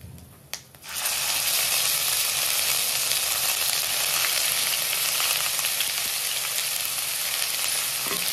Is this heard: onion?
yes